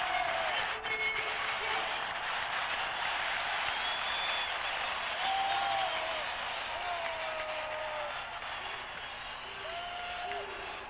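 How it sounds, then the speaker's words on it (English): Arena crowd at a 1989 college basketball game between UNLV and Arizona giving a standing ovation, a broad sustained roar of applause and cheering at steady loudness throughout, with faint whistles rising over it. "Listen to the crowd for Sean Elliott."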